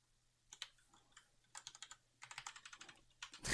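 Bursts of keystrokes on a computer keyboard, close and quiet, coming in short irregular runs with pauses between them and a louder clack at the end.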